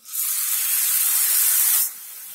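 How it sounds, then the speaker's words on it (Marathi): Spices soaked in hot water go into a hot pan of roasted masala paste for patwadi rassa, giving a loud, sudden, steady hiss that cuts off to a quieter sizzle after about two seconds. "आपण गरम पाण्यामध्ये भिजवलेले सर्व मसाले घालणार आहे."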